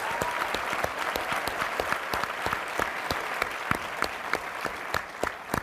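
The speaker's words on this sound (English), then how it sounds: "let's give a round of applause for your Partners of the Year" An audience applauds Partners of the Year at a keynote event, a dense steady clapping that fills the room for several seconds without a voice.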